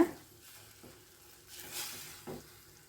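Medium poha (flattened rice) stirred in a pan, a few soft scraping and rustling strokes with a faint sizzle, quiet and close.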